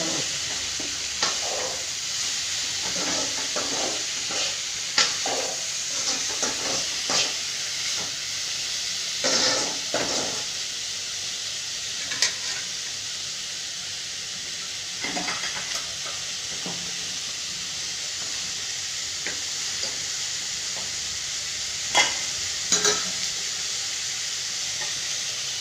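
A pot of sambar with lentils at a rolling boil, a constant close hiss and bubbling with scattered pops and soft clinks over a long stretch, no voices.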